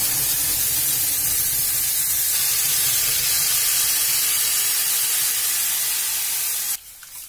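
Water is poured into a hot pan of fried spices while cooking an Uttarakhandi bhatt dish, giving a loud, steady hiss of steam and sizzle that holds for several seconds, then drops off abruptly.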